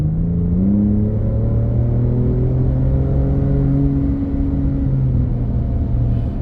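A 2025 Ford midsize pickup truck engine revs steadily, its pitch climbing and holding in a smooth, muffled drone heard from inside the cab.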